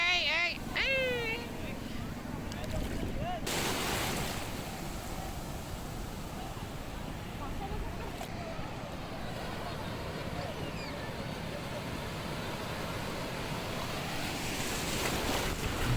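Ocean surf breaking on Kolatoli beach at Cox's Bazar, a steady broadband wash with wind buffeting the microphone throughout; a voice calls out briefly near the start.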